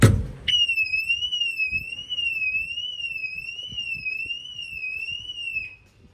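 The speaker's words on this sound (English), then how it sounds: "and that should trigger the alarm system." A Mercedes S63 car alarm, set off by a shock sensor when the front tire is banged, wails with a loud, warbling electronic tone that rises and falls in a steady rhythm, after a sharp thump, then stops abruptly.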